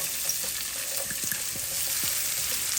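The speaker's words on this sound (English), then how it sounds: "Once our oil is ready, we're going to go ahead and add our onions." Onions dropped into hot oil in a skillet for seafood rice, giving a bright, continuous close-up sizzle with small popping crackles throughout, no voices.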